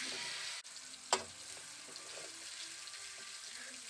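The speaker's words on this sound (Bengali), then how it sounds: "এবার আমি গাজরটাকেও লাল করে ভেজে নেব" Carrots fry in oil in a pan, giving a steady, close sizzle throughout with one sharp clatter early on.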